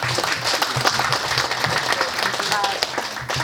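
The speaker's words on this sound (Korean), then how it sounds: "뜨거운 박수로 모시겠습니다" Warm audience applause welcoming a lecturer to a leadership academy talk in Gwangju, a sustained wash of many hands clapping with some voices underneath.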